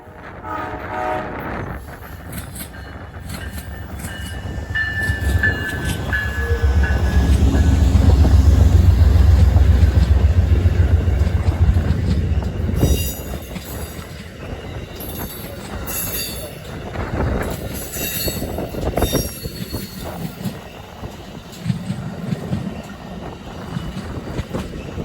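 Amtrak 41, the Floridian passenger train, passes loudly and close, with rumbling wheels, clacking rail joints, squealing wheels and horn blasts swelling to a peak and then fading as the cars roll by.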